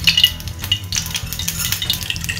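Oil sizzles and crackles steadily in a cooking pan for a dried fish (karuvadu) dish, loud and close, with occasional scrapes and clinks of a utensil against the pan.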